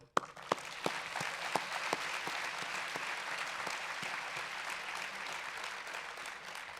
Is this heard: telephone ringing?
no